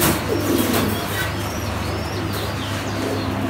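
Racing pigeons of the Gorra breed coo softly and repeatedly at close range, steady low calls over a constant background hum.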